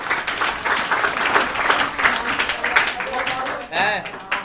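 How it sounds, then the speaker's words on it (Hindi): A classroom of students applauds during an algebra lecture, a dense burst of clapping lasting a few seconds with voices mixed in, close and fairly loud. "मारिए ताली अमन भैया के लिए।"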